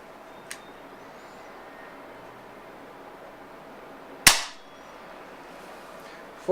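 A single sharp shot from a Beeman P1 .22 caliber air pistol cracks out loud and close against a quiet room hiss, with a faint click earlier and another sharp onset at the very end.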